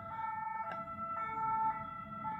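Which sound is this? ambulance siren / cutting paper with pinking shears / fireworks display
ambulance siren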